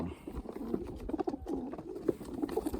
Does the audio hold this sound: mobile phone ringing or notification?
no